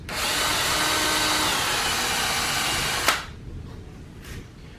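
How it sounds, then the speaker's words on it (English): Power drill driving countersunk screws into a glued shelf for a camper, a steady close whine for about three seconds that stops with a sharp click, then a faint tool sound. "we're going to go ahead and countersink some screws in this."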